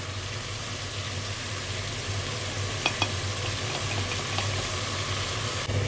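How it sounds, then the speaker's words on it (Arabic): Meat sizzles steadily in a hot pan as onion, pepper and garlic are added and stirred, a continuous close frying hiss with a few light clinks of the spoon and no talking. "هننزل بقى بالبصل والفلفل والثوم على الفوضى على طول."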